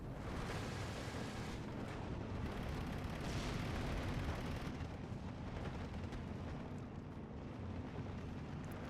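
Rumbling 105 mm SK18 artillery fire in the Steel Division 2 video game, a continuous wash of distant booms and blasts running steadily throughout without pause.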